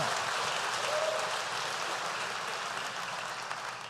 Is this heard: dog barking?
no